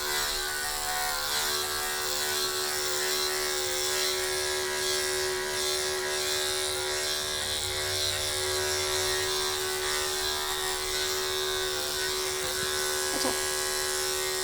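Electric clippers buzz continuously at close range while a cockapoo dog is groomed to a short length with a number 4 or 5 guard, a steady hum with slight changes in tone.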